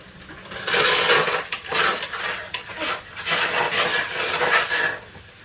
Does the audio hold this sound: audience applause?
no